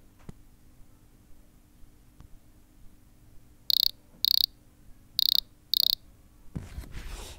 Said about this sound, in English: I think we can agree that's a pretty crap cricket.